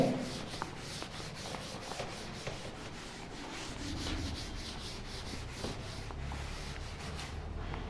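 Rubbing strokes erasing a board in a class, with repeated scrubbing swishes at a steady rhythm, close and moderately quiet, no talking.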